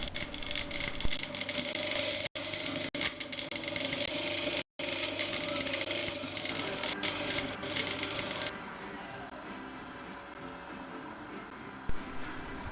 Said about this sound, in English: So a quick one with the wire brush just to remove the phosphated layer of aluminium.